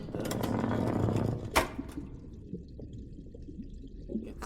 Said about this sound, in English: Water wheels. Okay, let's see what the water wheel does.